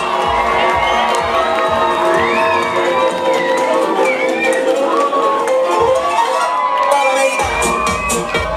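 Loud, continuous crowd cheering and whooping at a student freshman celebration party, with shouts and whistles rising over a dense, steady roar of many voices throughout.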